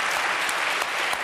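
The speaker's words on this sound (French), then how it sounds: "Applaudissements pour lui." A television studio audience claps steadily, a dense wash of applause that holds at an even level throughout the short moment.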